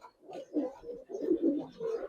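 Pigeons, giribaz and coloured fancy breeds in a loft, coo in repeated soft, low, throaty phrases, several bursts close together at moderate level with no talk.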